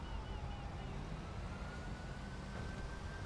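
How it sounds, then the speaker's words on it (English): An ambulance siren in the video game GTA V, set among police patrol gameplay, wails faintly and steadily in the distance over a constant low rumble of traffic and game ambience. "I don't know where this ambulance is coming from"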